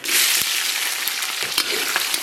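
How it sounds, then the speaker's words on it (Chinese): Scallion, ginger and garlic hit a wok of rock sugar caramelized to a bubbling reddish-brown and are stir-fried: a loud, steady sizzle close by, broken by a few sharp spatula scrapes and taps, with no talking. "简单给它煸炒一下"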